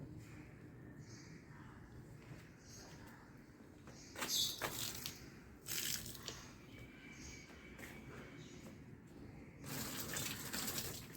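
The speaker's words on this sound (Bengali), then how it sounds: "আর গাছে জল দিয়ে নিই" Garden plants are watered with short gushing bursts of water over a quiet background, faint and a little distant, with no talking.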